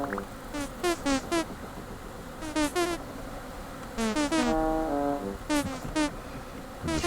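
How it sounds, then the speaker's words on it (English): Angry bees swarm in the Vintage Story video game, droning in loud, close bursts. Several overlapping buzzes rise and fall in pitch over a steady background hum. "releasing all the hordes of angry bees."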